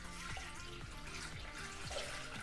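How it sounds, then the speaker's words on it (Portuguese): Water is poured into a Thermomix bowl while making bread pudding, a brief steady trickling stream with light splashing, close and moderately loud, no talking. "Coloco aí água."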